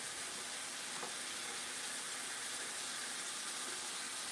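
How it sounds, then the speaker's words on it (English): Taco filling sizzling and frying steadily in a pan, a dense continuous hiss with a faint scrape of a spatula, close and without talk. "I'm gonna scrape this pan, get some of this goodness that's going on up in here."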